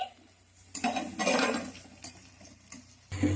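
Chicken and chopped green chillies tipped into a pan of frying vegetables with clattering utensils and scraping stirs, short bursts of metal-on-pan noise between quieter moments.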